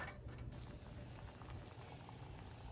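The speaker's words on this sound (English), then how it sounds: "So this has been boiling for about 5 minutes." Water boils in an old pot holding furniture hardware, a faint, continuous bubbling and popping patter heard alone at low level.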